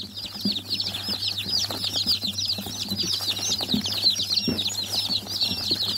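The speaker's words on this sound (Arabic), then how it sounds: "14 كتكوت سمان، هحطهم بقى مع السمان اللي موجود هنا عادي" A group of about fourteen quail chicks added to a pen of quail, giving a dense, continuous chorus of high, thin chirps close by, with faint rustling and scratching beneath.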